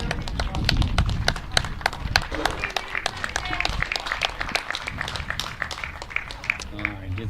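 Sharp, scattered claps at a youth baseball game, crisp individual hand claps spaced irregularly at moderate distance over several seconds, mixed with outdoor crowd murmur and voices talking.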